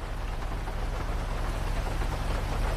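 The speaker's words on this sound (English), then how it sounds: "It's the rain. It's the rain." Steady rain pours down in a GTA roleplay game, a dense, even hiss of falling water that holds constant from start to finish with no voices over it.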